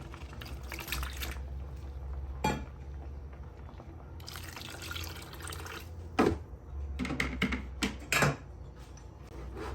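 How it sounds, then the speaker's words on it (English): Water is poured into a pot of onions, pepper and coriander roots for catfish and yam pepper soup, with quiet splashes and drips coming in short, irregular bursts over a low background hum. "So just add a little bit of water to it."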